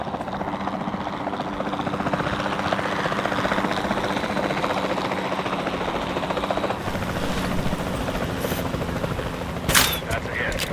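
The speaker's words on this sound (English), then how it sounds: "Then the sensible thing is to take a capture team helicopter." A capture team helicopter in the video game Jurassic World Evolution 2, its rotor thrumming steadily and fairly loud throughout, with a few sharp bangs near the end.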